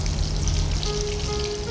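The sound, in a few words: chicken meat balls frying in a pan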